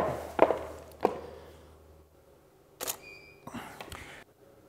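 A single-lens reflex camera has its lens swapped for a 200 mm lens: a few soft clicks and thunks of the lens and body being handled, spread over several seconds with quiet gaps, close and fairly faint, no talking.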